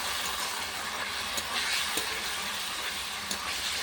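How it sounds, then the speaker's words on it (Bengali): Spice paste of chilli, turmeric, cumin and coriander being stir-fried in a pan over a clay stove for a cauliflower and fish curry, a constant low sizzle with faint scraping stirs. "ভালো করে মশলাটাকে আমি কষিয়ে নেব"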